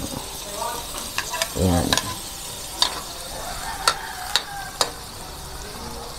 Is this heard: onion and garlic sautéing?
yes